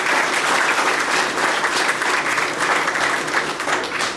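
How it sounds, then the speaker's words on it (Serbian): A crowd at a company celebration applauds the warehouse department, with dense, loud, sustained clapping that continues evenly throughout. "Molim vas aplauz za sektor skladišta."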